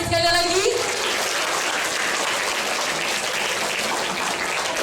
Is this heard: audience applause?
yes